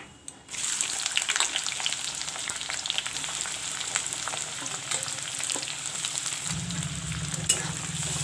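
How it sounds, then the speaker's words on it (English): Chopped onions frying toward golden brown for chicken curry with whole garam masala, a continuous dense sizzle close by with occasional stirring scrapes, no voices, a low hum joining near the end. "I will let the onions fry golden brown."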